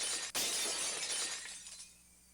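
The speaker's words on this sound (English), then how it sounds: "The unpleasant, piercing sound of shattered glass" Glass shattering in the visual novel game Higurashi When They Cry: one loud, bright crash of breaking glass with a sharp onset, followed by a tinkling spray of shards that fades out over about two seconds.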